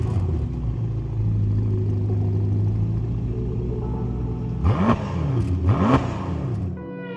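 Ferrari Amalfi Spider engine, 600 horsepower, idling with a deep rumble before two sharp revs that rise and fall near the end.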